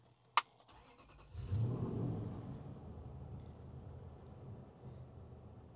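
A Toyota Land Cruiser 100 Series engine cranks and starts with its mass airflow sensor unplugged, then settles into a steady idle after a sharp click, heard close and alone without talk.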